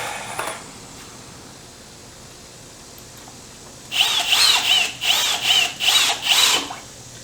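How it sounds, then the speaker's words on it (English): A power drill whirs in five short bursts as screws are driven into a wooden herb planter box, following a quiet stretch with a brief clatter at the start. "I'm gonna go ahead and screw these 2 together"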